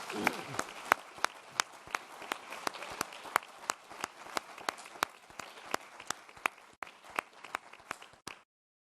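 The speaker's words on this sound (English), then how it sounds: "Please, a round of applause for all 13 teams and all the participants." An audience at an entrepreneurs' final pitch-off and awards ceremony claps for the competing teams, a close, lively burst of many hands with crisp individual claps that thins out and stops abruptly near the end.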